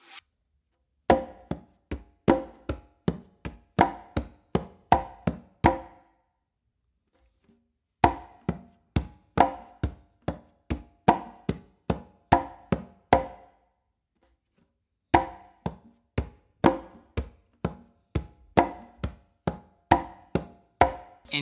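Conga son and rumba clave patterns of slaps, bass tones and finger strokes play as three long runs of steady, rapid hand strikes split by brief gaps, close and clear with no voice.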